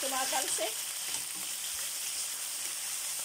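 Chicken frying in oil with garlic and onion, spitting and splattering in a steady, close sizzle that runs throughout, slightly louder and busier at the start.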